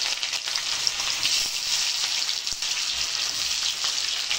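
Three large onions frying in oil for Nababi chicken, giving a dense, steady sizzle that stays close and even throughout with no voices.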